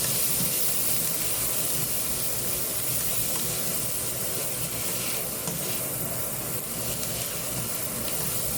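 Whole spices and masala frying in a pan for chicken malai handi, a steady, close sizzle with soft hissing and stirring scrapes that carries on evenly throughout.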